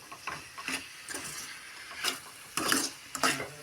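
Eggplant curry with chilli fries and is stirred in a pan, giving soft sizzling under a series of scraping, clacking stirs that are irregular and fairly close.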